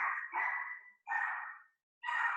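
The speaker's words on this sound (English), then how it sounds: "I apologize for my dog in the background." A dog barks in the background at home, three drawn-out barks or yowls separated by short pauses, fairly clear and unaccompanied by speech.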